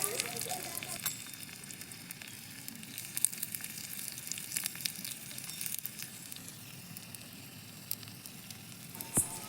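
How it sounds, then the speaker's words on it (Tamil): Chopped onions and mustard seeds sauté in hot oil in a pan at an outdoor village cooking setup, making a continuous crackling sizzle with scattered pops at moderate loudness, and a voice is faintly audible underneath. "வெங்காயம் போட்டு நல்லா வதக்கிடணும்"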